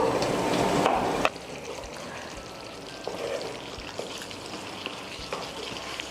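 Chicken gizzard masala cooks in a pan over moderate heat, with a soft continuous sizzle and bubbling after a louder, brief rush of stirring at the start.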